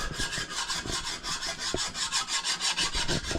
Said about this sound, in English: So we're just looking to see where the high and low spots are with a file.